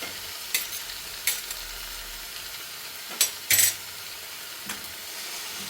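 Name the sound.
mixing mashed potato with crushed cooked beef for cutlets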